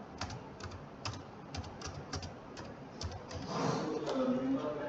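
Quick bursts of keystrokes on a computer keyboard as an email ID is typed into a form, heard close and fairly quiet, ending in a brief rustle.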